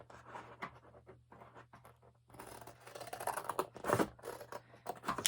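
Scissors cut out a fabric square for a button bouquet craft, heard as quiet, irregular close snips and rustling with short pauses between cuts.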